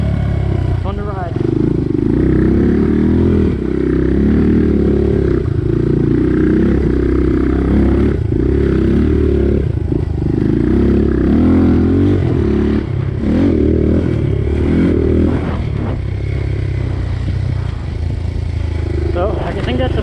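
A Suzuki DR200 motorcycle being ridden, its engine droning and rumbling steadily throughout with some clatter, while someone talks over it the whole time.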